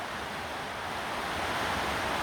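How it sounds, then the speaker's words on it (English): Heavy rain pours down outdoors beside a vintage Fordson Major tractor, a steady, dense broadband hiss that stays loud and unbroken throughout with no talk. "I'm having a lovely downpour of rain."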